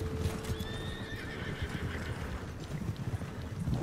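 Horse hooves clip-clop steadily in the video game Red Dead Redemption 2, with a horse whinnying over a constant wash of background noise.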